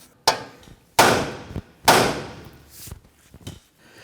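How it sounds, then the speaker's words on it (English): A hammer strikes the steering knuckle of a 2017-2020 Hyundai Elantra to free the outer tie rod end: three loud, sharp metallic blows, closely spaced, followed by a couple of lighter knocks. "Now I'm going to go ahead and strike the knuckle here."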